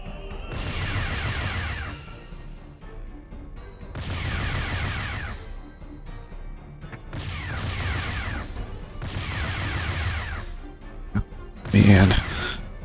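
Repeated bursts of gunfire in a space video game as turrets are shot at, four long roughly two-second volleys with gaps between and a sharper crash near the end.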